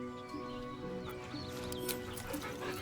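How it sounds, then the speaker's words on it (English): A dog in the Baldur's Gate 3 video game whimpering nervously, soft quiet whines and breathy sounds over a low game ambience, with no talking. "The dog whimpers nervously"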